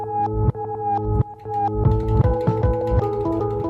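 Bright synthesizer notes on a Polyend Tracker repeat in a quick pattern, each one gliding downward in pitch like a tape, with no voices over it.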